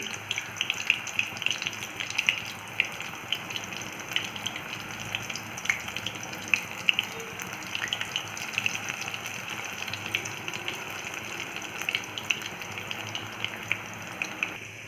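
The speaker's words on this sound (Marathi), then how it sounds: "एक एक करून पकोडे सोडू शकता तेल चांगलं गरम झालेलं आहे" Methi pakodas made with jowar flour frying in hot oil, a dense steady bubbling hiss with small crackles throughout, moderately quiet and close, no voices.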